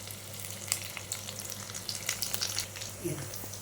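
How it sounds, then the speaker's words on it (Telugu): Grated coconut, a split bay leaf and curry leaves frying in oil in a pan, a quiet, even sizzle with light crackles and pops, close but faint. "ఇప్పుడు ఇవన్నీ వేగాలి."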